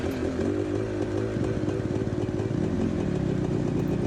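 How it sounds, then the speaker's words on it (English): A GPX enduro motorcycle with a touch-and-go carburetor, stopped in a quarry, its engine hunting at idle. The close, buzzy tone surges and wavers in uneven pulses instead of settling to a steady idle. "You can hear the engine like hunting."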